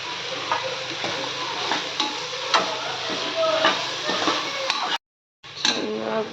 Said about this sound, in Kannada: ಇವಾಗ ಮೆಂತ್ಯ ಸೊಪ್ಪನ್ನ ಹಾಕೊಳ್ತಿದ್ದೀವಿ.